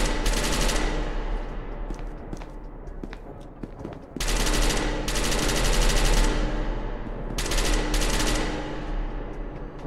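Rapid video game machine-gun fire in bursts aimed at Nazi soldiers, loud and close, with a short pause midway before the sustained rattling resumes, no voices.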